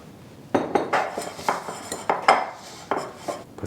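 A small bowl clinks and knocks on a kitchen counter in several light, close taps and scrapes while olive oil is added for bread dough, with no talking.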